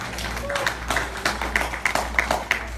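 Church congregation clapping during a sermon, a loose rhythmic patter of hands with distinct beats roughly every third of a second, fairly close and moderately loud.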